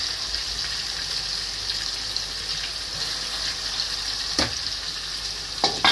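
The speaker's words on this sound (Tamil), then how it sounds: "எண்ணெயில் நல்லா பொரியட்டும்." Chicken fries in hot oil with a loud, continuous close-up sizzle and crackle, broken by a couple of sharp stirring or utensil knocks near the end, with no talking.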